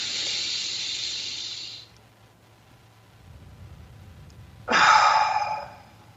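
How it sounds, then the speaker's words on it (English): Deep breath drawn in and held, then a slow, long exhale rushing out close to the microphone, with a quiet pause between them. "let's just take a deep breath together"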